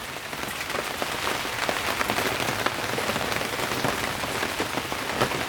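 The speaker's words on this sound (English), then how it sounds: "Just letting them get rained on for a few seconds." Steady rain pattering on potted tomato and pepper seedlings in six-pack trays outdoors, a dense continuous hiss of drops with scattered sharper taps, fairly close and even throughout with no voices.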